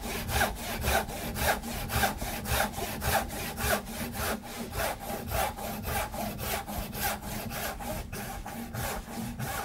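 A hand saw cuts tenon cheeks in hard, dry wood, its oiled blade rasping in a brisk, even rhythm of roughly two dozen close strokes, with no talking.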